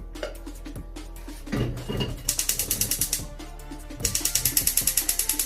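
A kitchen hob knob being turned, giving a close run of rapid mechanical ratcheting clicks in two bursts, with no talking.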